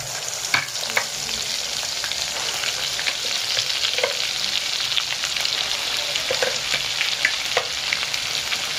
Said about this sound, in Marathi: आपण बनवलेला आहे काजू, बदाम, कांदा, टमाटर वगैरेची पेस्ट, हे आपण टाकून घेऊया